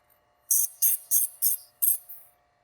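Chainsaw chain sharpener grinding the chain in five short, sharp bursts of high whine, close and evenly spaced, with quiet between.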